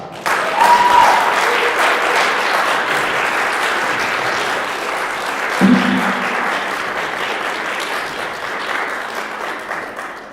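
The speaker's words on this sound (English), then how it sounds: "We can give him one more round of applause." Sustained audience applause for a presenter at a senior capstone event, a dense steady clapping that swells early, holds, and slowly fades toward the end, with no talking.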